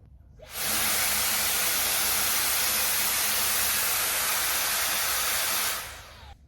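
A Dyson Airwrap Coanda 2X hair styler curling hair blows a steady, close, loud rush of air that starts abruptly, holds evenly for about five seconds and then stops.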